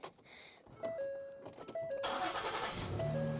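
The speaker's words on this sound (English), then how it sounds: "Let's first turn on the car" A Ford Explorer engine starts up with a cranking burst, then idles steadily, accompanied by a few electronic chimes and beeps inside the vehicle.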